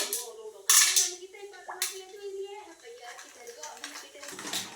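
Small stones drop into a kulfi bowl, with a couple of sharp bright clinks standing out near the start, then lighter taps as a person keeps talking over them.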